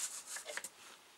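A scoring tool is drawn along paper, half an inch in from the edge, to crease fold lines for a notebook folder: a few faint, short scraping strokes close by, with no talking.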